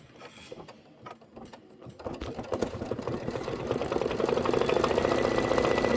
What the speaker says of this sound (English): Now it's going to do the outline stitch.